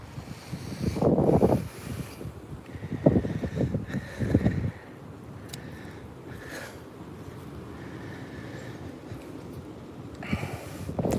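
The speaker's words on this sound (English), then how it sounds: "Wind" Gusty wind blowing across a vegetable garden where bok choy and napa cabbage grow, rough bursts rising and falling with occasional rustles, fairly close and steady between gusts.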